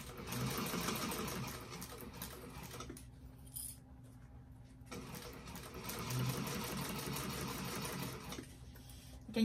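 A sewing machine topstitches a bag with a fast, steady mechanical chatter, pausing briefly in the middle and then resuming at a fairly low level.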